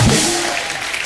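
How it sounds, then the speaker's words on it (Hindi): Studio audience applause on a comedy talk show, a brief burst of clapping that starts loud and tapers off within about a second. "अनुपम सर के लिए जोरदार ताली हो जाए।"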